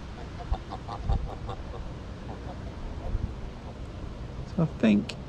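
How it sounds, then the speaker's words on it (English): Geese call beside the River Thames during stick float fishing, with a few honking calls near the end over an outdoor ambience of river and wind while someone talks. "Now the geese are moving in at a rate of speed."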